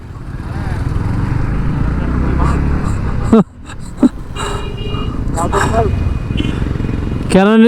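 A loud, steady motorcycle engine roars up close as four motorcycles ride together, briefly dropping off before revving back, with voices speaking over the engine noise.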